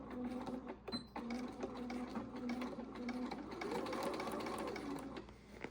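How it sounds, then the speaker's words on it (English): A sewing machine stitches a hem on a pullover at slow speed, running in a steady whirring patter with brief pauses, moderately close and fairly quiet over light background noise. "we're gonna be sewing this hem with a 3/8 seam allowance"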